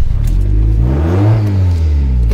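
A car engine with a clogged exhaust that has been stalling is pushed to full throttle, its loud, close roar climbing in pitch as it revs up, then easing back, with no talk over it.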